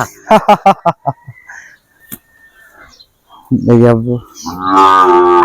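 Sahiwal bull calves moo loudly and close by, with a run of short rhythmic calls at first and then two long drawn-out moos after a quiet gap.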